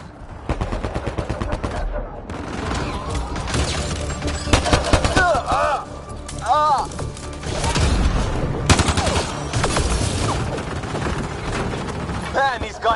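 Sustained automatic gunfire rattles through a firefight in Mass Effect Andromeda, dense bursts of rapid shots with metallic clatter and brief pauses, while characters shout over the combat.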